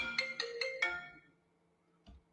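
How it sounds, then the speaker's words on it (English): A phone ringtone for an incoming call plays four bright, quick chiming notes that ring out and fade, followed by a soft click, all fairly quiet. "hold on, I'm getting a phone call."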